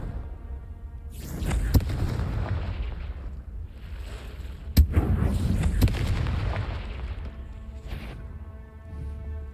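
Booming fiery blast from the Confringo spell in the game Hogwarts Legacy, cast inside a cave: two heavy, loud explosions with sharp cracks and long rumbling decay, standing alone.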